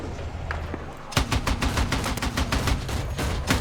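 Rapid automatic gunfire from a high-caliber weapon in the military shooter Battlefield 6, starting abruptly after a brief quiet lull and continuing as a loud, dense string of sharp shots with faint game ambience beneath.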